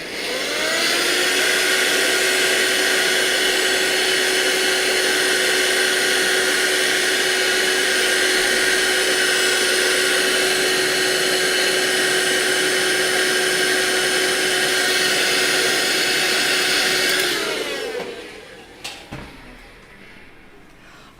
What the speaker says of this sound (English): So I'm going to vacuum this.